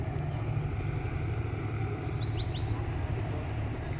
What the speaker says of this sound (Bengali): দেখো লঞ্চ যাচ্ছে।